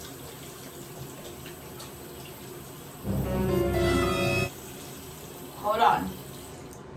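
A tap runs for rinsing in a morning skincare routine, a steady close rush of water lasting about a second and a half, followed by a shorter splash a moment later, with brief talk in between.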